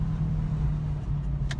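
A manual-transmission car engine runs with a rough, low, steady rumble throughout, close and continuous, with a brief higher hiss near the end.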